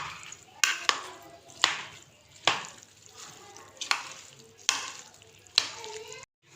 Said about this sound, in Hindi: इसको हम अच्छे से मिक्स कर लेंगे।